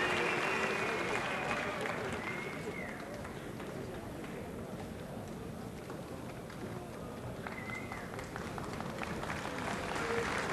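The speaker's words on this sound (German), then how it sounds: "Beifall für beide" Audience applauding both boxers after an amateur boxing bout at a 1986 Berlin tournament, sustained clapping filling the hall for the whole stretch, with crowd noise and a voice faintly mixed in.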